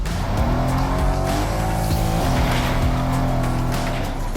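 A car drives in the LEGO Fortnite Brick Life video game, a loud, continuous engine drone that shifts in pitch, with squealing tires and skidding, and no talking.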